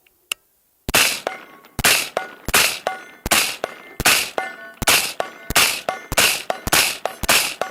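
An AR-15 fitted with a VKTR VK-1 gas-piston upper fires about a dozen loud, sharp shots at steel in open desert, each with a ringing tail and even spacing between rounds.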